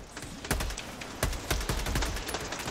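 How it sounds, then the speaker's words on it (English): Enemy gunfire in a video game crackles in rapid bursts of sharp shots, a few louder cracks standing out over a dense, steady rattle. "Oh, they're shooting at me!"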